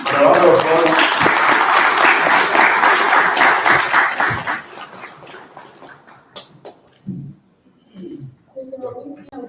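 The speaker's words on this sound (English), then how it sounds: "for a moment, a round of applause" An audience at a networking event bursts into loud, dense applause that holds strongly for several seconds before thinning into scattered claps and dying away. Voices chatter faintly toward the end.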